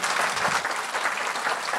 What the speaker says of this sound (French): Merci David, on peut l'applaudir